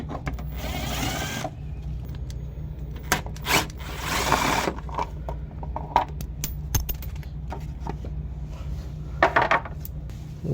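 Bolts come out of the plastic underbody shield of a 2014 Ford Fiesta 1.6, with rapid ratcheting bursts and metallic clicks and rattles of tools and fasteners up close, separated by brief pauses.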